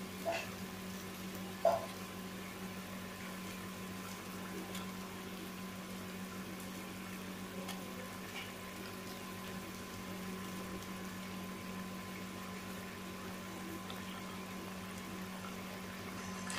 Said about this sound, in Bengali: এবারে তরকারিটা ফুটে উঠেছে